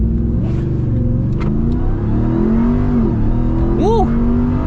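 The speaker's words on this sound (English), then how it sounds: "There we go, launch control." A 2021 Ram TRX truck's engine roars loud and close as it accelerates hard off a launch-control start, a sustained rising growl with a voice briefly cutting in near the end.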